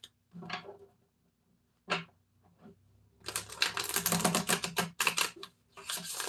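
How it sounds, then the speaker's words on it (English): A new tarot deck shuffled by hand, starting with a few isolated card snaps and taps, then building into a dense, continuous clattering riffle close to the listener, with no voice over it. "And I'm shuffling really good because I got a new deck."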